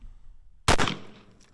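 A single sharp shot from a .357 or .38 Special revolver, sudden and loud, followed by a short decaying echo after a quiet lead-in.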